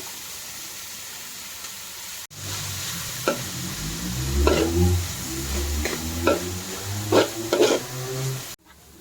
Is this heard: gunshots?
no